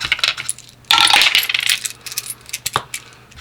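A quarter coin drops and rattles, ringing and clinking loudly as it settles, with scattered lighter metallic taps continuing afterward and no talking.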